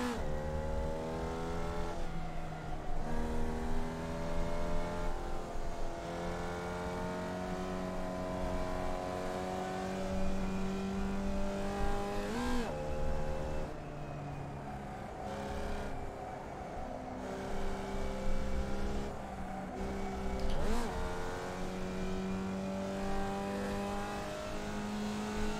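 A race car in the sim racing game iRacing screams through repeated full-throttle accelerations, its loud engine climbing in pitch through each gear and dropping on every shift and lift, without a break for the whole stretch.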